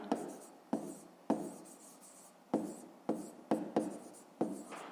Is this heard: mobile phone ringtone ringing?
no